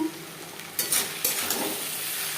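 Chopped potatoes sizzling on medium flame with onion, tomato and spices, stirred in a pan with a few sharp scraping strokes over a steady hiss.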